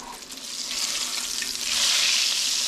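Whitefish fillets fry in a pan with a close, bright crackling sizzle that grows louder and denser toward the end, with no talking.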